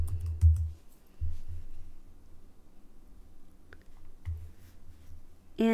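A few short bursts of quiet typing on a computer keyboard while entering a search into a photo editor, separated by long near-silent gaps with faint clicks.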